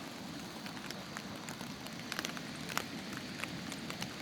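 Steady rain falls outdoors along the upper stretch of the river near Yeonpo in Jeongseon, a soft continuous patter with scattered brighter drop ticks throughout, with no voices.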